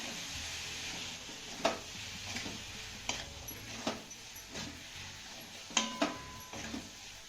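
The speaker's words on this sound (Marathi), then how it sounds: "भोकळा भोपळा आपल्याला मसाल्याबरोबर ना चांगला एक ते दोन मिनिट परतून घ्यायचा आहे" Grated bottle gourd stirred with masala in a pan, a low steady sizzle broken by a series of spatula scrapes and taps against the metal every second or so, close and fairly quiet, with no voices.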